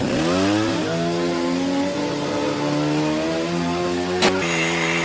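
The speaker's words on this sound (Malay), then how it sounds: "mereka potong pintu pakai gergaji dan gunting hidrolik" An electric saw cuts through a door, its motor whining in a steady, loud drone that climbs slightly in pitch, with a sharp click near the end.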